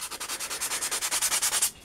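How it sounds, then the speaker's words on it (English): Steady, rhythmic strokes sanding balsa foam rasp back and forth at an even pace, close up and fairly loud, stopping abruptly at the end. "You can keep sanding."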